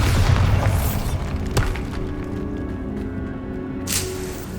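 A Bombarda explosion spell cast in the Hogwarts Legacy video game gives a loud booming blast that rumbles and fades, with a sharp crack midway and another burst near the end.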